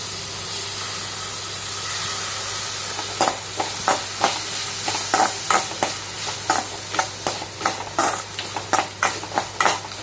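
Tomatoes and onions sautéing in a pan, a soft sizzle that gives way to a rhythmic run of spatula strokes and scrapes, close and steady.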